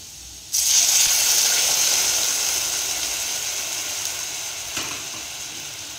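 Potato pieces dropped into hot oil in a pan for aloo posto burst into a loud, steady sizzle that holds and slowly eases, with a brief stir or clink near the end.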